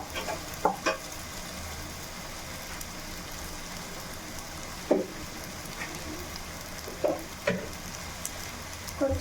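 Cucumber pieces go into a pan of frying onions for a cucumber stir-fry, making a steady close sizzle broken by a few soft clicks and taps as the pieces land and are moved around.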